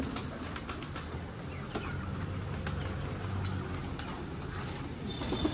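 Pigeons gather at a feeder beside a window, cooing softly close by amid light scuffling, flapping and pecking taps, with no talk.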